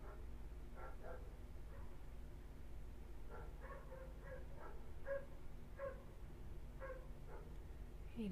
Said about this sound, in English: did you guys miss the barking of my dogs?